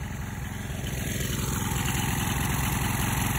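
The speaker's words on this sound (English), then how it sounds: "The motor's running, look at that." A small engine-driven pump motor running on biogas methane from a biodigester keeps up a steady close, rhythmic putter with a constant high whine over it. It runs alone with no speech.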